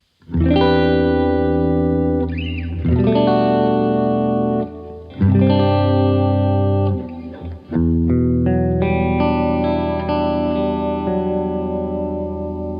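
Electric guitar chords ring out clean and sustained, a few strummed changes with slight shimmer and echo, played alone.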